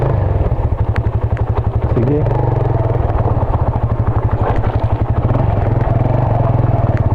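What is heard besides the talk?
motorcycle engine on steep road to Dolores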